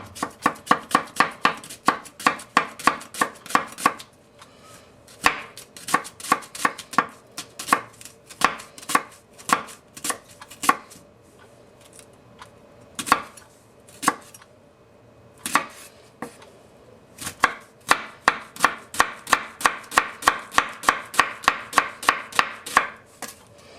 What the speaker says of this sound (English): Let's take a shallot, just to give you an idea. Again, how fine this baby goes.